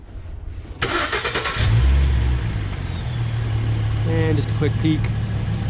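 A 2011 Ford Mustang V6 cranks and fires, surging briefly before settling into a steady idle after an oil change, close and loud with someone speaking over it.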